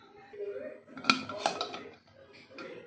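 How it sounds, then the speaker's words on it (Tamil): An idiyappam steamer vessel opened after steaming, giving a couple of close metallic clanks and scrapes of the lid against the pot within a few seconds. "பாத்திரத்தை ஓப்பன் பண்ணிக்கலாம்."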